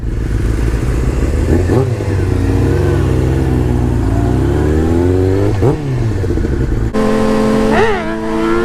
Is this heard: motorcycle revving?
yes